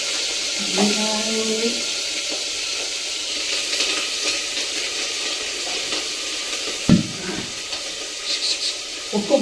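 Onions frying in oil in a home kitchen, a steady close sizzle running throughout, with a few metallic scrapes and clatters of stirring, while a voice speaks briefly over it.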